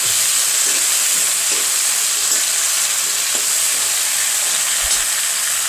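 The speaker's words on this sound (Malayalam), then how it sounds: "നന്നായിട്ട് വഴറ്റിയെടുക്കണം" Okra and chicken sauté in a hot pan with a steady, close, even sizzle and hiss that keeps going the whole time, with only faint stirring knocks underneath.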